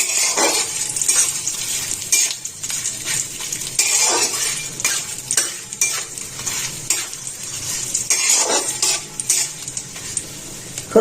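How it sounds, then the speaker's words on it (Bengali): Dried red chillies, bay leaf and panch phoron fry in hot oil in a pan, a steady close sizzle with frequent scraping stirs and light clinks of a spatula throughout. "ফোড়নটাকে একটু ভালো করে ভেজে নেব।"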